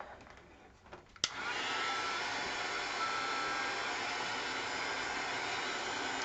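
A hair dryer switches on with a click and blows a steady, even whoosh of air to dry paint on a mixed media tag, running alone and continuously.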